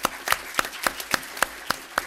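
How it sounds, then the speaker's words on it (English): A city council meeting audience gives a round of applause, a thin scattering of claps in a slow, fairly even rhythm of about eight distinct hits, close and moderately loud. "Let's give them all a round of applause for"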